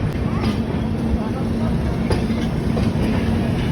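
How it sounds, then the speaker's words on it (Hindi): A train leaving Bhagalpur, India rolls along in heavy rain with a constant low rumble and faint rhythmic clacking of wheels, heard from inside a carriage. "तो फाइनली ट्रेन यहाँ से खुल चुकी है भागलपुर से"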